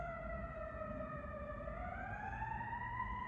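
A fire engine siren wails at night in the distance, a steady rising and falling tone with harmonics sliding slowly upward, heard alone over a low background rumble.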